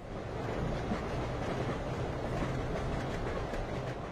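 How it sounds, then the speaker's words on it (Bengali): A passenger train crosses the Padma Bridge, its steady rumble and rolling wheel noise holding at an even, fairly loud level throughout, with no voices. "যাত্রী নিয়ে পদ্মা সেতুতে ছুটছে ট্রেন।"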